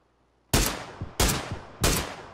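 Three loud, sharp rifle shots from an SLR in a video game ring out at even intervals, each a punchy crack with a short decaying tail, after a brief quiet start.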